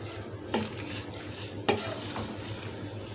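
Chicken vegetable macaroni stirred in a pan, with a low steady sizzle and a couple of distinct spoon scrapes against the metal, close and without any talking.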